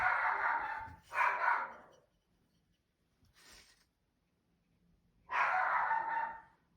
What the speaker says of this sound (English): Another dog barking outside and he's going bananas